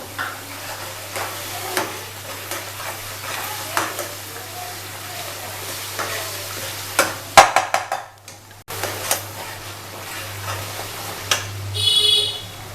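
Garlic paste fried in a pan for achari chicken rezala, a low sizzle broken by soft irregular stirring scrapes and clicks, close by, with one brief dropout near the middle and no talking.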